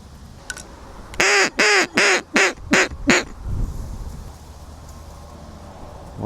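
Ducks quack loudly and close during a duck hunt set up by a railroad track, a quick burst of about seven harsh calls in a row, followed by quieter rustling.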